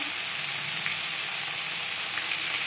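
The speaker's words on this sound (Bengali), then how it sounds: "পটল আমি হালকা করে ভেজে নেব" Pointed gourd (potol) fries lightly in cooking oil in a pan, giving a steady, close, bright sizzle throughout with no voices.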